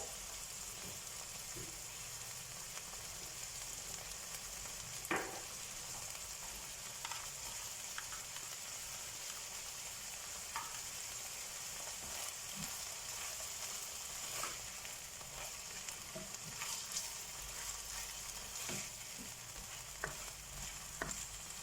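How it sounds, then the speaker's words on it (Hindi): Corn and spring onions sautéing in a pan for a chicken bread filling, a faint, steady sizzle with scattered light crackles and occasional spatula taps. "जस्ट सौते करना है। इसके साथ ही मैं अब इसमें ऐड कर दूंगी कॉर्न्स, हरी प्याज"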